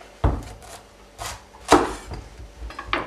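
A knife chops through a pumpkin on a board, cutting it into quarters, producing a few close, dull thuds and knocks with faint scraping in between, with no talking.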